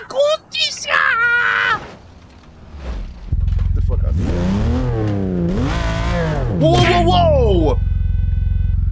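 A Lamborghini Countach engine in BeamNG.Drive revs hard through rising and falling sweeps, loud and close, with a brief squeal near the start and a voice talking over part of it.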